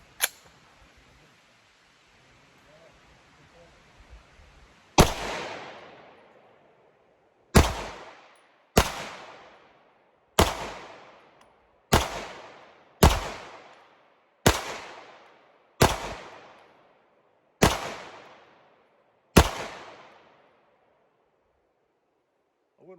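CZ Shadow 2 pistol fired outdoors in about ten loud, sharp single shots at irregular intervals, each cracking and then ringing out with a decaying echo, preceded by a brief click and faint handling sounds.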